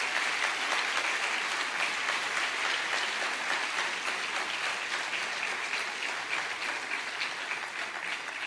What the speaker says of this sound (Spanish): Dale un aplauso al Señor de alabanza